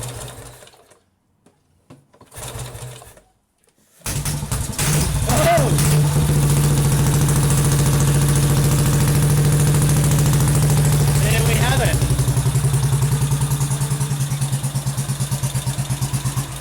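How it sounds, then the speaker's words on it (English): A 1950 Royal Enfield 350G motorcycle engine kicked over and firing up after a rebuild: a few faint sounds, then it catches and settles into a loud, steady, close thumping idle that runs on, with a voice briefly heard over it. "you guys are going to be here for the first kick. So all going well, it should just fire."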